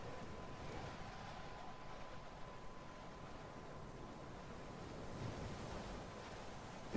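Wind blowing in the horror video game Kholat, a steady full-band roar with a faint tonal whistle, continuous and loud for the whole stretch with no voices.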